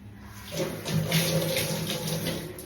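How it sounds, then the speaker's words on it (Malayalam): Tap water runs into plastic bottles in a steady, fairly quiet gush and splash, filling three of them one after another indoors without any talk. "കുപ്പിയിലെല്ലാം വെള്ളം മൂന്ന് കുപ്പിയിലും പിടിച്ച്"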